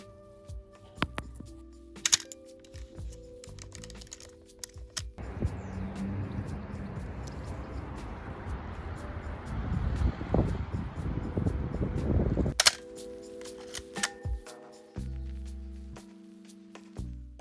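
Fujifilm Neopan Acros 100 black-and-white film being loaded into a camera: close, steady rustling and scraping handling noise through the middle, with scattered soft clicks and knocks before and after.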